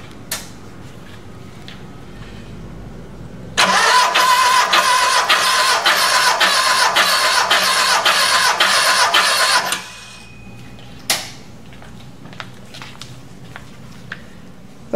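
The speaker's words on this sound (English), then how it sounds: "So I'm going to crank this over, we're going to see what this thing makes." An air-cooled VW long-block engine cranks over during a compression test, a steady rhythmic whirring chug of roughly six seconds, loud and close, with no talk over it.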